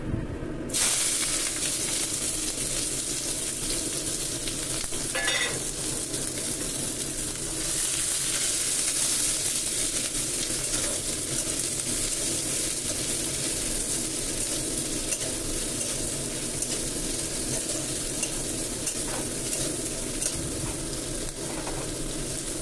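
Whole spices and onions fry in hot oil in a pan for a stingray fish recipe, a constant close sizzle and hiss running throughout, with occasional stirring clatter and no talk.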